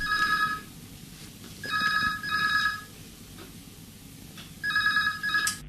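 A telephone rings on a radio call-in program's line, its electronic double-burst tone repeating three times with pauses between, clear and fairly loud with no talking over it.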